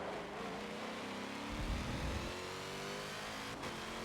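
A twin-supercharged, 28-cylinder, 4,000-horsepower race car engine in Forza Motorsport 7 drones loud and constant, with a deeper rumbling surge in the middle.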